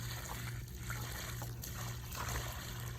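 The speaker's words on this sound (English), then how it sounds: "thoroughly put some water in there until it all soaks in" Water trickles and pours into a small soil basin around a newly planted tree at an arboretum, a faint continuous dribble heard up close with a low steady hum beneath and no talk.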